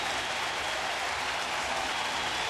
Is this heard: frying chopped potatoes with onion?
no